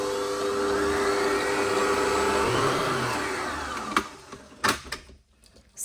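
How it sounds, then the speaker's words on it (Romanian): An electric mixer whirs steadily through panettone batter, loud and close for about four seconds, then cuts off and leaves a few clunks and knocks of handling. "Și iarăși le mixăm. Adăugăm vodka. Mai mixăm o minută."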